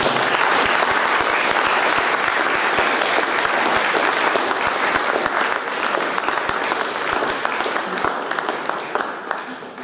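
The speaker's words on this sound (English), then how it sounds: "will you please give a big round of applause to our panel members." Sustained loud applause from an audience at a Dorset Humanists Question Time panel event, steady dense clapping filling the room for the full stretch, tapering only slightly toward the end.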